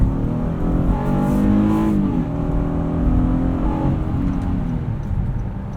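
The 3.5 liter V6 of a 2019 Honda Passport Elite AWD accelerates under steady load, its engine note rising, dipping briefly at a shift, then climbing again, heard from inside the cabin over road rumble.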